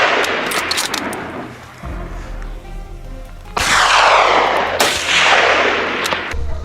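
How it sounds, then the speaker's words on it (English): Rifle shots ring out while hunting invasive wild boars on open grassland, two sharp, loud blasts a second apart, each trailing a long, fading echo over an earlier spell of rustling and rumbling. "One shot, and the first boar dropped."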